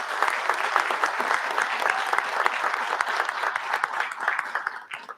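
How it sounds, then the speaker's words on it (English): Audience at a board of education meeting clapping, a dense, lively round of applause held at steady volume for about five seconds before tapering off at the end. "Let's give them a round of applause."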